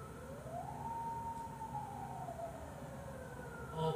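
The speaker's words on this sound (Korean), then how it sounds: "아, 소방차야?" A fire engine siren wails steadily outdoors, rising and falling as it passes by at moderate distance over constant low traffic rumble, with no talk.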